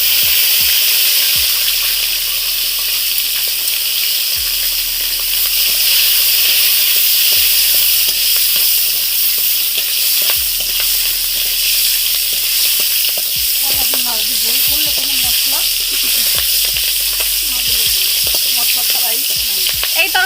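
Green chilies hit hot oil for a banana curry, crackling in a loud, steady, close sizzle with a hiss that persists throughout, some stirring knocks, and faint talk in the background toward the end.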